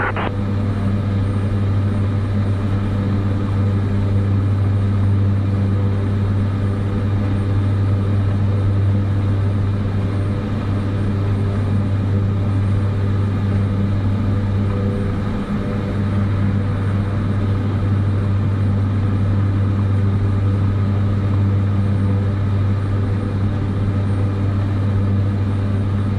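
An airliner in Microsoft Flight Simulator 2024 takes off from runway 5 right at Taipei, its engines a loud, steady low drone that holds unbroken throughout with no talk.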